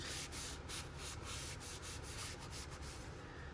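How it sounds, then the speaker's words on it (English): Steady rubbing over a closed paper page in a handmade Black Currant journal, a soft continuous hushing friction with faint regular strokes, close but quiet, with no speech. "I'm going to take this page and close it and rub it."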